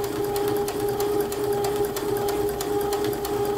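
A sewing machine runs steadily while stitching a dart along a chalk line in fabric, a close, even mechanical whir with a constant hum and rapid needle rhythm throughout.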